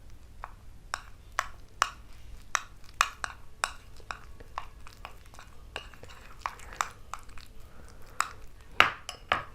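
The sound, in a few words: mixing strawberry face mask with gram flour in bowl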